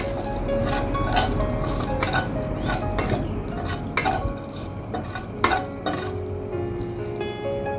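Whole green and black cardamom pods with cinnamon sticks are stirred in a hot, oily pan, giving a steady sizzle with scraping spoon strokes and occasional light metal clinks, close up and with no talk.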